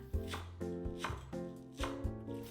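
Knife chopping green onion on a cutting board, with about five soft, evenly spaced thuds, quiet and close, with no voices.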